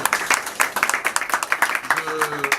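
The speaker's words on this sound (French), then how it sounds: "On va applaudir très fort Monsieur Joël Crasso" An audience applauds at a diploma ceremony for reception hostesses. Dense, steady clapping runs throughout, with voices mixed in.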